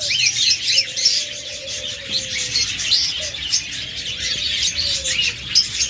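Caged pet budgerigars and lovebirds chirp and twitter busily in a dense, continuous chorus, with a few longer whistled calls, close and lively, no talking.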